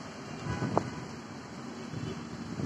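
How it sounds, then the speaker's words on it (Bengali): Wind blowing through trees as a cyclone storm approaches, with a steady broadband rush and a few stronger gusts. "বাতাস হচ্ছে এবার।"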